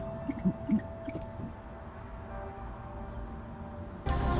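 A great horned owl nesting in a window box in northwest Oklahoma City gives a few soft, low hoots early on over a steady outdoor hum, followed by a burst of broadband noise at the end.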